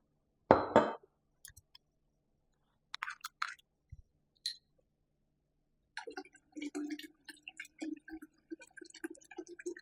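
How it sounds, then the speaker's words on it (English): Sparkling water poured into a carafe for homemade Jamaican ginger beer: a brief clink, then a soft, crackling fizz of bubbles and light drips, fairly faint and close, with no talking. "Now I'm going to add this sparkling water to the craft."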